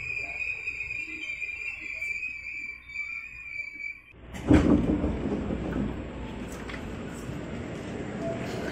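A KRL electric commuter train in Jakarta rumbles and hisses nearby at night, a steady high whine giving way to a louder rolling roar as it moves.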